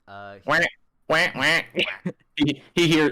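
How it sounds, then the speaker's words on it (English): A rubber ducky squeaks once at the start, a short buzzy honk, followed by animated talk during a Dungeons & Dragons tabletop session. "I didn't get to use it earlier, but I do still have the rubber ducky."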